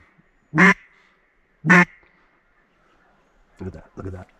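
Mallard ducks quack from a duck blind in the reeds: two loud, clear, nasal quacks about a second apart, then two fainter, shorter quacks, with quiet pauses between.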